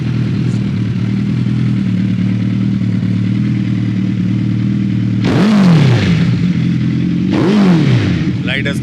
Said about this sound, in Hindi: अब इसका साउंड कैसा है, एक बार ये स्टार्ट कीजिए बाइक।